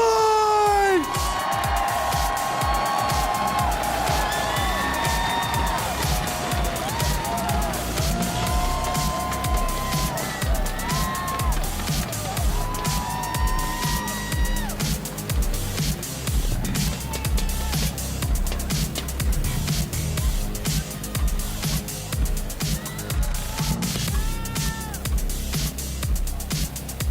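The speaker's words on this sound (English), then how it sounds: "Round of applause for Mohamed Light!" A crowd at the Clash Royale League World Finals 2025 esports event cheers and applauds steadily for a player taking the stage, the roar sustained under loud arena music with voices mixed in.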